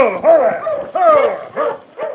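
Sled dogs barking in a Yukon radio drama, four excited, yelping barks and whines in quick succession, loud and close.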